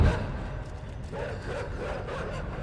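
Dogs barking and yipping in the dark side-scrolling game Inside, a run of repeated barks at moderate distance against a rumbling low background, with little talk over them.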